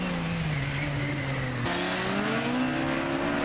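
Old-school rally cars push hard on a drying rally stage, engines droning loud and steady with rising revs, a gear change midway and faint tyre noise underneath, no voices.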